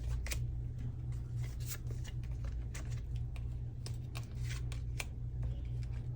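Tarot cards being shuffled and drawn give quick, crisp riffling flicks and slaps, close by over a low steady hum.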